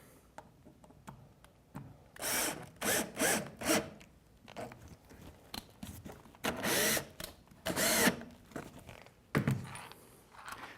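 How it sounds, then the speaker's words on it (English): A power drill drives a screw into the wooden fence of a panel-cutting sled, with short bursts of whirring and grinding, several spurts in quick succession, fairly close and without talk. "And then drive a screw at the end of your fence."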